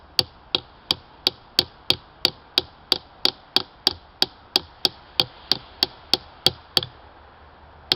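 Hammer gently tapping a metal spile into a maple tree to draw sap, about twenty sharp, evenly spaced knocks in a steady rhythm, close and distinct, with a short pause just before the last strike.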